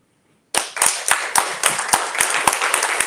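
After a brief silence, an audience bursts into steady applause for election candidates at a community candidate forum. Many hands clap loudly and continuously, with sharp individual claps standing out, and no talking.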